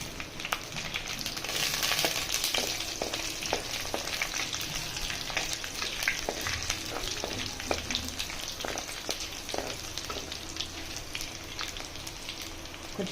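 Mustard seeds and cumin sizzle in hot oil with a dense, steady crackle, and many sharp little pops spatter throughout at close range. No one speaks.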